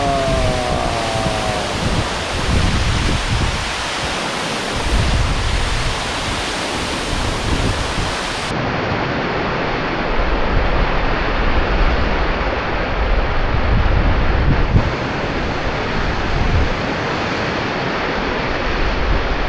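Kadamagundi waterfall in Karnataka roaring steadily up close, a broad continuous rush of falling water with a hissing spray and occasional wind buffeting the microphone, no voices.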